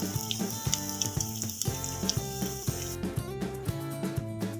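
Bread chops frying in oil in a pan, a steady bubbling sizzle running throughout, with background music over it.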